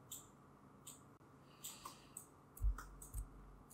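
A computer mouse clicks in short, crisp, close taps at uneven intervals, a few single clicks and quick pairs over a quiet background.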